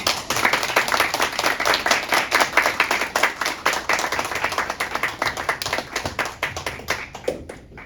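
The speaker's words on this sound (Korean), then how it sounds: "열렬한 박수로 환영하겠습니다" A church congregation at a Sunday worship service claps enthusiastically in a fast, steady rhythm of many hands, loud and close, tapering off near the end.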